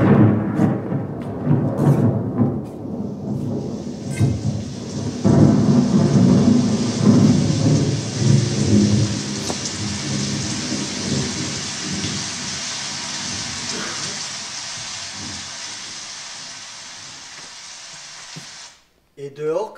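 Steady rain pours down with low rumbles of thunder, loud and close at first and then easing to a softer hiss, as voices speak over it in a staged scene.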